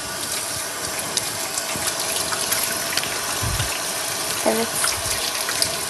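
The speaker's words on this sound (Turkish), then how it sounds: "Ben önce gene bir ellerimi yıkayayım." A kitchen tap runs steadily while hands are washed at the sink, a constant close rush of water with small splashes, and someone briefly speaks over it.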